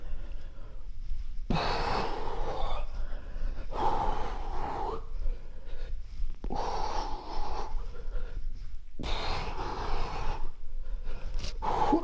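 Heavy, forceful exhalations from a person doing a full-body workout, several loud breathy bursts spaced a few seconds apart, close to the listener.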